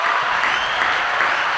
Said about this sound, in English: Y'all can we get a hand clap for Aaron Spears?